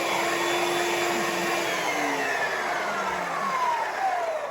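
An electric stand mixer beats pizza dough with a steady, loud motor whir and whine throughout. The pitch slowly drifts and wavers as the dough works.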